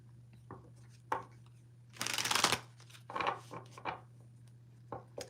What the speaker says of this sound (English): I don't know if Minnesota Picker wanted me to pull some cards for him